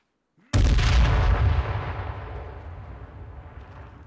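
A grenade goes off in a video game match, one sudden loud blast after a brief quiet that booms and then rumbles away slowly over several seconds.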